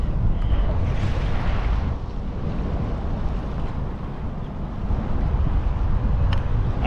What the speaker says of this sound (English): This right here is the best spot right here to jet ski